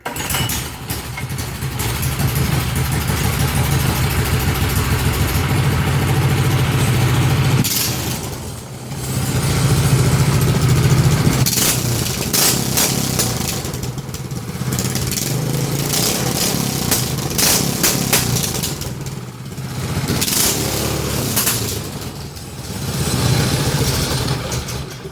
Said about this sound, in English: we're gonna start it and we're gonna rev it